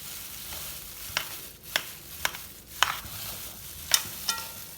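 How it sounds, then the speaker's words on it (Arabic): Burger ingredients with ginger, cinnamon and black pepper are stirred together in a bowl, giving soft, rhythmic scraping and clicking strokes about every half second, close and fairly quiet. "طيب تعالوا بقى نخلط الحاجات دي مع بعضنا."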